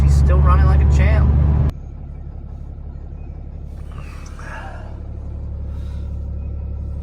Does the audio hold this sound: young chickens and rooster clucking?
no